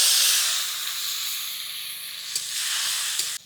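Chopped tomato hits hot oil in a village kitchen making Bengali fish curry, giving a loud, close, steady hissing sizzle with a few soft pops, then dropping off suddenly.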